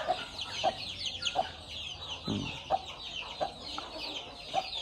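Farm chicks peep constantly in a high, busy chatter while a hen clucks in short, regular bursts nearby, with one lower rustle midway; a quiet, close brooding pen with no talking.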